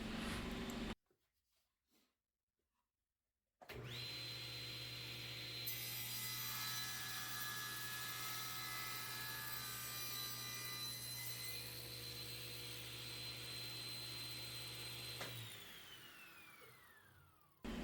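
A saw cuts wood guided by an extreme angle cut jig, a steady close rasping and whirring drone after a quiet start with a few small handling knocks, ending abruptly as the cut finishes.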